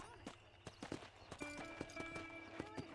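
A horse trotting in the Western video game Red Dead Redemption, its hooves clopping in a brisk, uneven rhythm at moderate distance, with a steady tonal hum from the game layered underneath.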